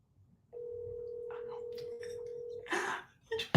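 Outgoing telephone call heard through a phone: a steady dial tone holds for about two seconds while faint voices talk over it, then a burst of noise and speech follows near the end.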